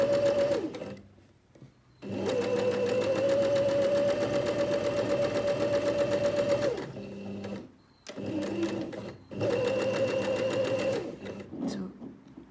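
A sewing machine backstitches and runs a seam in fabric while a concealed zip is sewn in. Two close bursts of motor hum and needle clatter are separated by a short pause, with a few quiet handling sounds between.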